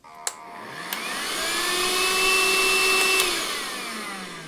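A vacuum cleaner runs steadily and close, its motor whine rising slightly in pitch and holding a loud, continuous drone with a couple of brief clicks near the start, no voices.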